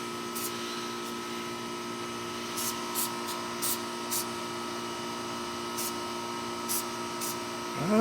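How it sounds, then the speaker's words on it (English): Several short hissing spray bursts of battery corrosion preventer onto a 2018 Nissan Frontier battery, some quick and some longer, over a steady background hum. "let's spray some battery corrosion preventer"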